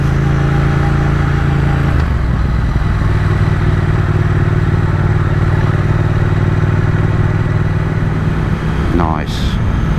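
Triumph Speed Twin motorcycle on its first ride after a puncture repair, with a steady, loud engine drone and wind rush throughout and a short whine near the end.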